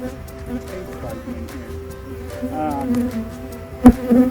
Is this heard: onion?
no